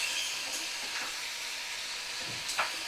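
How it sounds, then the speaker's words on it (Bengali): Button mushrooms with garam masala sautéing in a pan, a steady soft sizzle and hiss with a few faint stirring scrapes, no talking. "তো সুন্দর করে দেখো আমি কষিয়ে নিচ্ছি"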